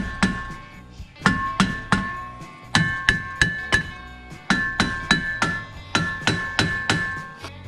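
Hammer blows on a seized brake rotor of a 2012 Toyota Highlander during a brake replacement, about sixteen sharp metallic strikes in irregular bursts, close and loud with ringing overtones.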